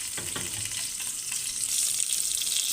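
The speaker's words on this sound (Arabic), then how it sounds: "هاوليك اللحم، شوفي كي تقلى لنا" Meat frying in a pan for an Algerian sweet tajine, a close, steady hiss and crackle of sizzling with a few soft scraping stirs near the start.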